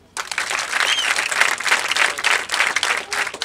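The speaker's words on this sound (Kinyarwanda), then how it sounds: "Nabo mu ntiza amashyi tubashimire" An audience at a ceremony closing civic service in Kinyinya sector breaks into applause after a brief silence, a dense, steady clapping that swells and ebbs for a few seconds with no talking.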